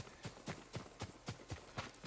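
A horse gallops in Ghost of Tsushima, its hooves beating in a quick, even rhythm of about four strikes per second, close and clear with no talk.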